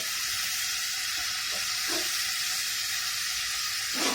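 Gosht, meat being fried in a pan, giving a continuous hissing sizzle that stays steady and fairly loud throughout, with a few faint stirring knocks and no talking.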